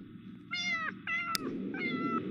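A cat meows in The Sims 2 video game, giving three separate drawn-out calls with a brief click between the first two, clear and close over a soft background bed.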